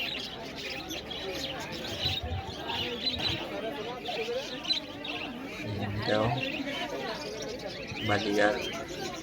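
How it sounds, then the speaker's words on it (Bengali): Budgerigars and other caged birds chirp and coo in dense overlapping calls at a bird market, with people talking throughout. "এখানে অনেকগুলো বাজিগার আছে খুব সুন্দর বাজিগার"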